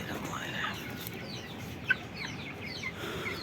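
Silkie chickens cluck softly and intermittently at a distance, with faint chirps over a low ambient hum.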